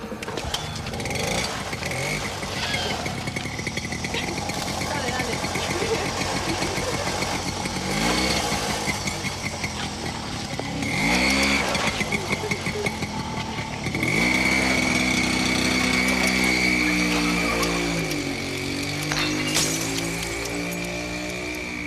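A motorcycle engine runs steadily close by, its pitch rising and falling through several revs and shifts, with a rough mid-range drone throughout and no talking.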